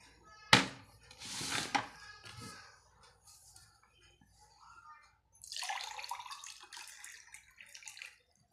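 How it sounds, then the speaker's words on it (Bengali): Water is poured into a dish being cooked in two short splashing bursts, one brief and one longer, with quiet pauses and a few small clinks in between. "একটু পানি দিয়ে দিব।"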